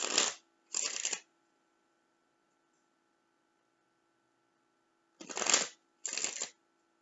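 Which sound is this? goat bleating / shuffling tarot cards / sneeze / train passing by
shuffling tarot cards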